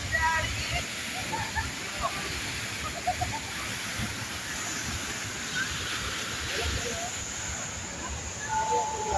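Constant rushing roar of Tuwasan Falls on Camiguin Island fills the scene, dense and steady, with occasional faint sounds of people mixed into the wash.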